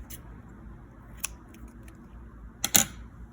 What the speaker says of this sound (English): So first, I need to cut off this tie.